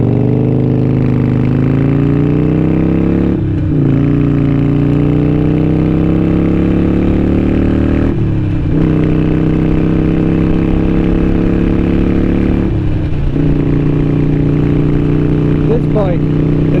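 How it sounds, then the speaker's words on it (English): Harley-Davidson Iron 883 motorcycle with an aftermarket exhaust, rolling on a parkway, its engine droning loud and steady throughout with brief dips in pitch at a few gear changes. "The Iron 883, a little bit of a rolling start."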